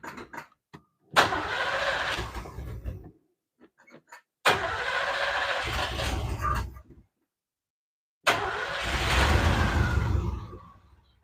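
Malibu with a 454 V8 and a faulty carburetor cranking and trying to start in three separate loud bursts, each a few seconds long, with quiet gaps between.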